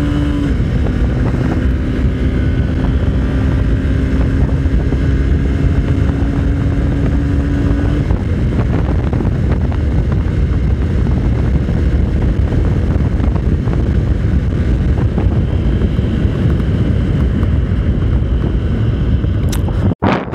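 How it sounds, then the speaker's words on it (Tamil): A Honda SP 125 motorcycle engine drones steadily at lower revs after a downshift, close and loud, with rushing wind noise throughout and a short hum fading early on. "ஒரு கியர் டவுன் பண்ணி பார்ப்போம்."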